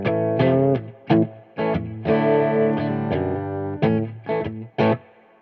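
An electric guitar played through a Son of Kong EQ/gain pedal with the gain raised rings out in distorted strummed chords and short stabs, close and loud, with brief silences between phrases.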